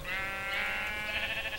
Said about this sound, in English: You dumb fucking sheep.